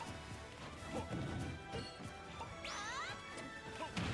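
Grenade impact in a Super Smash Bros.-style fighting game with Banjo among the characters, a sharp crash-like hit among dense game effects and chirpy sounds, continuous background noise throughout.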